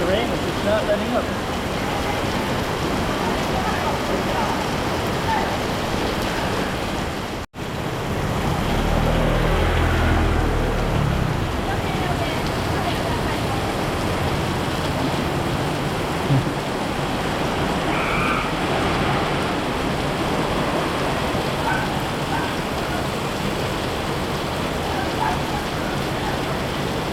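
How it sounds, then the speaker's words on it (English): Heavy rain falls on a street in Macau, a dense continuous hiss of drops on pavement, with a brief dropout and muffled rustling moments, while a person speaks intermittently over it. "Rain is just not letting up."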